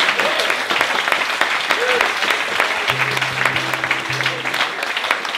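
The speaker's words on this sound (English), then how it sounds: "there's another gent who I'd like to give a round of applause to" Festival crowd at the Moira Furnace Folk Festival giving a round of applause, steady dense clapping from a sizable audience with a few scattered voices and faint tonal hums underneath.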